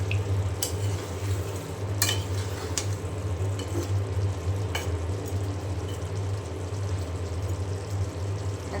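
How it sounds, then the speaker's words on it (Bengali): Potatoes and meat are sautéed and stirred in a pan, producing a steady, close sizzle and frying hiss throughout, with occasional metallic scrapes and clinks of the utensil against the pan. "এখন আলু খুব ভালো করে আমি গোশের সাথে কষিয়ে নেব।"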